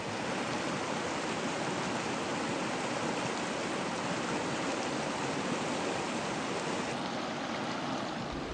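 A mountain river in the High Uintas rushes loudly and without a break, a dense, even roar of flowing water that fills the whole stretch with no voices.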